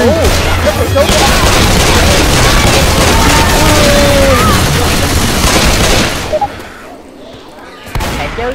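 Dense, continuous bursts of gunfire crackle for several seconds in Left 4 Dead 2, then cut to near quiet with a brief final blast; game shooting with muffled voices mixed in.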